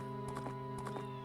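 Epona the horse clip-clopping in Zelda: Majora's Mask, two quick paired hoofbeat groups in an even gait over steady game music, fairly close.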